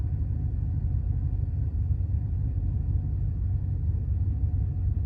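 A car engine idles steadily with a low, continuous rumble at close range, running with a slight miss after maintenance; no voices.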